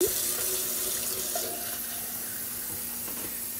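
Water pours from a container into a planting pot holding a peeled avocado seed propped on sticks, a steady close splashing rush that softens slightly partway through.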